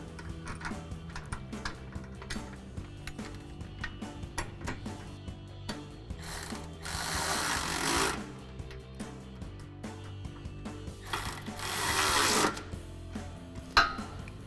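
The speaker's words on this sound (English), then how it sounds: "now we're using our 10mm socket and a 10mm wrench" Rapid mechanical clicking of a 10mm ratcheting socket wrench turning bracket bolts while fitting running boards to a 2009–2018 RAM 1500, steady and close, with a couple of louder whirring bursts.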